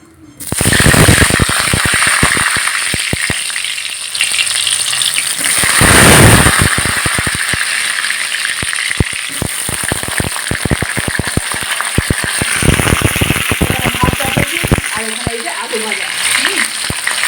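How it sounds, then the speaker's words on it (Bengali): Potatoes sizzle and crackle loudly in hot oil, with dense popping spatters throughout and voices speaking intermittently over the frying. "মাংসের আলু ভাজছি দেখতে পাচ্ছ"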